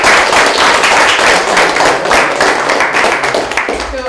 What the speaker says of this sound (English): how about a round of applause for Varun?